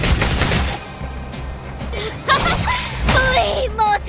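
A barrage attack in the mobile game Reverse: 1999, a loud rapid burst of impacts and whooshing blasts, with bright magical swells and chiming tones.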